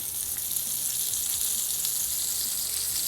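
A small amount of oil sizzles in a frying pan, a steady, close, bright hiss that continues evenly with no voices.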